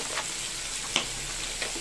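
Onion and garlic frying in cooking oil for chicken liver and gizzard adobo make a steady close sizzle, broken by a couple of brief sharp crackles or utensil taps.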